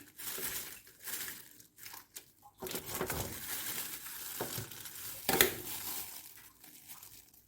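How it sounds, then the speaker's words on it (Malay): Food being chopped into small pieces while making Thai-style layered pandan kuih talam, heard as a close, uneven run of crunchy cutting and crushing noises with brief pauses, and no talking. "Okay, kita potong kecil-kecil"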